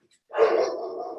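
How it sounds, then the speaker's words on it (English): Dogs bark near a microphone during a planning committee public hearing, a single loud bark trailing into a sustained yelping cry. "Sorry about my dogs."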